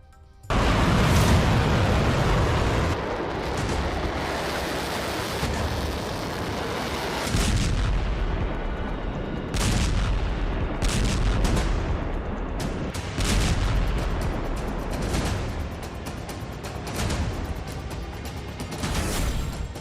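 Heavy artillery fire and explosions in war footage, a dense barrage of loud booms and blasts rolling one after another with no pause across the whole stretch.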